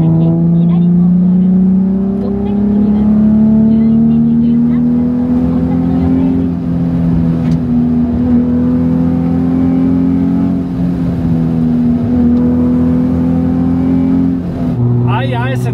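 A Nissan Z sports car fitted with new parts drives a winding mountain road. Its engine drones loud and close, with the pitch rising and falling through the bends and gear changes.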